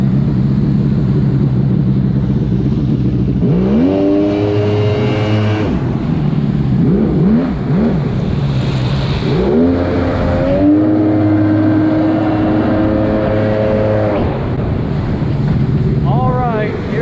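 Two personal watercraft engines, a Yamaha GP1200R and a WidowRaider, idle and rev loudly outdoors near open water, their pitch rising and falling through repeated throttle blips under steady wind noise.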